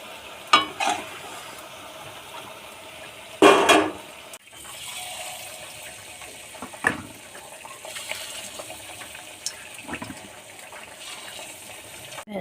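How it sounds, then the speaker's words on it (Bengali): Gram flour fritters dropped into hot oil in a home kitchen, a continuous low sizzle and bubbling of frying with a few sharp clatters and scrapes of a utensil, close and moderately loud. "এবার বেসনগুলো তেলেতে ছাড়বো"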